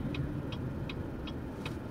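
The electronic turn signal in a Chevrolet Volt gives quick, evenly spaced ticks, five in under two seconds, over a low steady hum inside the car.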